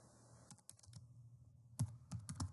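A computer keyboard being typed on in short bursts of quick, close, crisp key clicks with brief pauses between.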